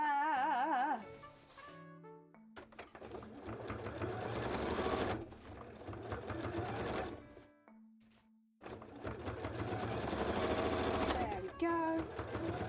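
Cosplay seams getting top stitched on a sewing machine, with two long loud runs of rapid stitching separated by a brief pause, and short stops and starts at the beginning and end. Music plays underneath.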